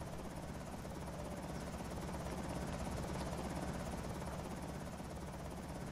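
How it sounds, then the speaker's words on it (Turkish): Helicopter in the zombie survival game Project Zomboid flying overhead, a steady dense rotor buzz and drone that holds loud and constant throughout with no talk. "Yine oyuna girdim ve yine helikopter geldi."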